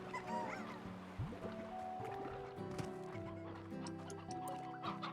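Chickens clucking in the video game Slime Rancher, a few short clucks and squawks over a continuous layered game soundtrack and ambience.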